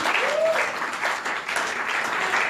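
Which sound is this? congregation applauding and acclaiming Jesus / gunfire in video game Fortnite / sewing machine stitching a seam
congregation applauding and acclaiming Jesus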